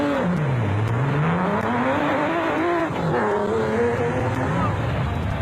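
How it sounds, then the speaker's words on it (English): Chevy NASCAR V6-powered off-road race cars leave the start line one after another at an off-road race in South Africa, engines revving and rising in pitch, loud and near, with commentary talking over them. "Nobles were next off the line in the Chevy NASCAR V6-powered Aceco. The rest of the field followed in quick succession"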